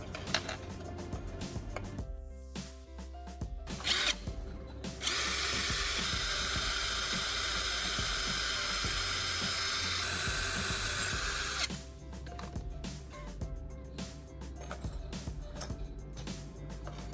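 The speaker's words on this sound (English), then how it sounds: "To mount these securely, I'm drilling a small hole right at the bend." A power drill bores a small hole at the bend of a metal fork, a steady high whine running loud for several seconds, framed by clattering handling noises and background music.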